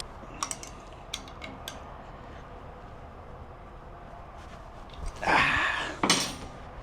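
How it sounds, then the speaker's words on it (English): Metallic tool work on a motorcycle's brake calipers during an overhaul: a few scattered light clinks early on, then a louder burst of ratcheting or scraping near the end, with no voices. "Brake calipers all snugged up."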